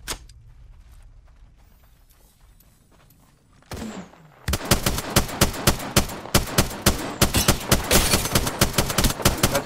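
Video game gunfire under attack: a few scattered shots, then a rapid, loud, steady burst of automatic fire with sharp evenly spaced reports through the second half.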